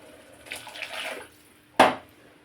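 Water is poured into a pot of rice being cooked with spices and vegetables for kuska, a soft trickling splash followed by a sharper, louder gush near the end, with no talking.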